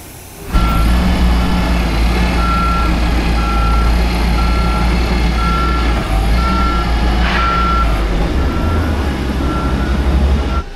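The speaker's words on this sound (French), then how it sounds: "Pourquoi il fait un bruit de criquet mon camion?" A delivery truck trailer reversing, its backup alarm chirping like a cricket: evenly spaced high beeps repeating over a loud, steady engine rumble, close by, with no talking.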